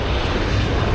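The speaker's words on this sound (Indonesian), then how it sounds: "oh bentar, ada pesawat" Airplane landing near an airport beside a beach, a loud, steady roar of jet engines close overhead that fills the whole moment.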